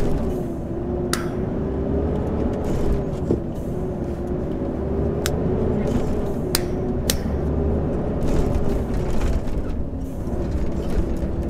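A truck with a 13-speed split manual gearbox drones steadily while shifting into second gear, the engine note dipping and rising under faint mechanical clicks and knocks.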